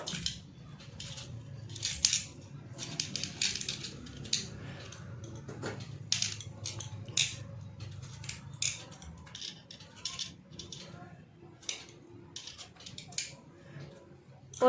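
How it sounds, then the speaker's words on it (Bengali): Repeated sharp metallic clicks and taps of a fork piercing small peeled potatoes for dum aloo, coming in an irregular rhythm over a low background hum, with some quiet handling noise in between. "আমি ছাড়িয়ে নিয়েছি আলুগুলো এখন একটা কাঁটা চামচের সাহায্যে ফুটো করে নেব"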